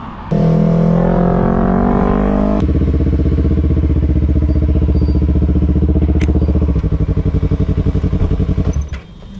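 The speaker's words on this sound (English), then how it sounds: "Turn off the bike." A motorcycle engine running close by, loud and steady with a rough throbbing pulse that shifts pitch early on, then settles and cuts off near the end.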